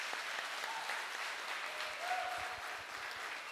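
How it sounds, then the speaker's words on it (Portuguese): A church congregation applauds during a Sunday service, a steady, moderately distant wash of many hands clapping that holds evenly for several seconds. "Aplausos ao Senhor pela vida dele em nome de Jesus."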